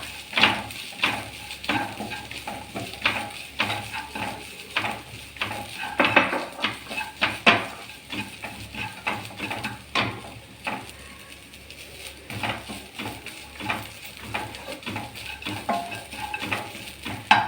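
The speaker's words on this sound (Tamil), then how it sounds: "நல்லா வதக்கி விடலாம்." Grated coconut filling for elanji sautéed in a pan, with a spoon scraping and knocking against the metal in a quick, steady rhythm over a constant sizzle, close and fairly loud throughout.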